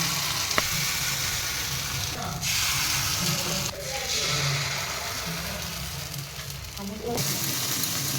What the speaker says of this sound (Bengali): আমি অল্প অল্প করে ব্যাটার দিচ্ছি আর আঁচটা একদম কমিয়ে রেখেছি